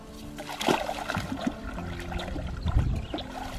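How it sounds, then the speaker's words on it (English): Crappie splashing at the water's surface beside a lakeside cooking spot, a few irregular splashes and sloshes over steady background water and outdoor noise, moderately close, with no talk. "Look at that, fish busting while we're getting ready to cook."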